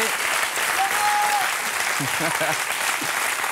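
Steady applause from a studio audience for French comedian Laurent Baffie fills the space, while brief voices speak over it near the middle.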